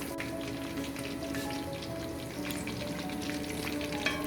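Chicken thighs crackling in hot oil with garlic and thyme, a close, even sizzle with fine spitting pops throughout.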